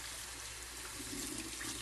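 Cold tap water runs steadily over lentils in a colander at a sink, a continuous close rushing splash with no talking.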